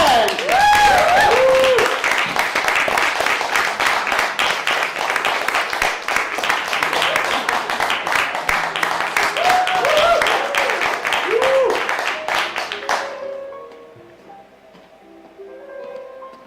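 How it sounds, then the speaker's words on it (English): A late-night talk show audience breaks into loud, sustained applause and cheering for an arriving guest, with whoops rising over dense clapping for about thirteen seconds before it cuts off and fades. "Let's give a big applause to François Lefranc!"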